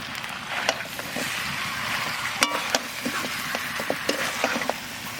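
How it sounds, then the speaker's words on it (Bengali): Whole cumin and coriander seeds sizzle and crackle in hot oil for a mutton curry, a steady frying hiss with scattered sharp pops and occasional stirring clatter, close and alone. "এইবার কোটা জিরে ধনেটা দিয়ে দেবো।"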